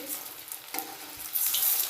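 Pieces of food frying in hot oil in a pan during village-style home cooking, a steady close sizzle that brightens briefly and grows a little louder toward the end, with no talk.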